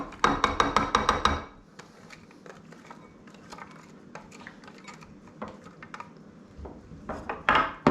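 A handheld vegetable chopper dices onions in a home kitchen, with a fast burst of sharp, loud plastic clacks at first, then scattered quieter taps and knocks, and another quick flurry of chops at the end.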